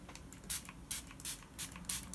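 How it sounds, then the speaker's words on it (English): A few soft, breathy hisses of a fine-mist spray bottle misting water onto an acrylic painting, each short burst spaced apart, close and fairly quiet. "I've got a spray bottle here, just with water, a fine mister"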